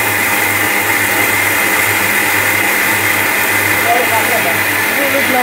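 A kitchen blender grinding corn keeps up a loud, constant motor whine and churning buzz, with a voice faintly heard over it near the end.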